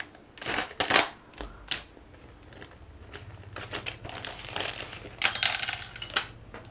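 Contents of a box for a Skil 4600 LD combination saw are unpacked close by: irregular rustling, crinkling and papery handling with a few sharp clinks and clatters of small metal parts, and no talk over it.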